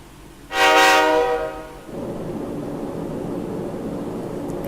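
A passenger train horn blares loudly for about a second inside Persona 3 Portable, then gives way to a steady rumbling roar of the train running on, with no voices.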